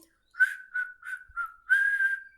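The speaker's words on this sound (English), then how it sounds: "Sometimes he would whistle." A person whistles a short tune of five clear notes, the last held longest, close and alone in otherwise silent surroundings.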